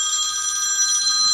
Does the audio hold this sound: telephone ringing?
yes